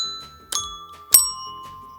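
Two struck metal bells from a Lovevery children's music set, two bright chimes about half a second apart, each ringing on with a sustained tone, close and clear, with no talking.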